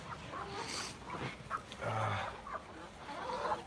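Chickens cluck and call in a coop converted from a long corn crib inside a farm barn. The scattered calls are faint and distant over a constant background hiss, with no talking.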